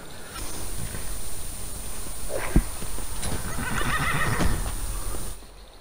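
A horse in Skyrim neighs and whinnies amid rhythmic clip-clopping hooves on the ground, loud and close, with a few sharper snorts mixed in.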